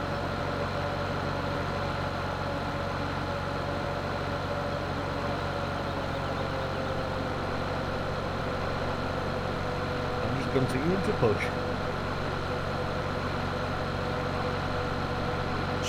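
A small pink tractor engine in Farming Simulator 17 drones steadily at a constant pitch, with a brief burst of clatter partway through, while someone talks over it.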